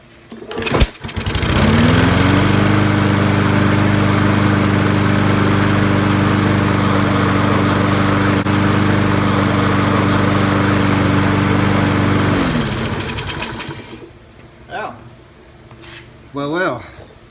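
A Toro self-propelled lawn mower engine, just reassembled after a carburetor repair with no air filter fitted, cranks and catches, then runs loud and steady at a constant drone for about ten seconds before cutting out and winding down, with faint noises after.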